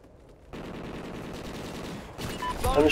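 Rapid bursts of gunfire from the Call of Duty: Ghosts video game start abruptly and rattle on steadily, growing louder near the end as a voice briefly cuts in.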